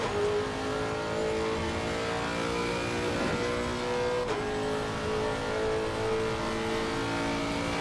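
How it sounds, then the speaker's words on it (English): A racing car engine in Assetto Corsa Competizione on the Nordschleife roars continuously at high revs, droning steadily with a brief shift in pitch partway through. "This car sounds amazing."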